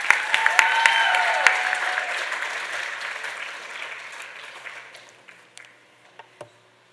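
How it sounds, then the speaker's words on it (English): A young dancer's arangetram audience claps, starting with a loud burst of hand-clapping that thins and fades over several seconds, ending in a few scattered claps. "she needs to hear just one more round of applause"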